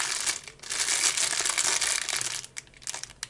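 A plastic packet holding a window-cleaning wipe is torn open and handled, loud close crinkling and rustling that runs continuously, then breaks into sparser crackles toward the end.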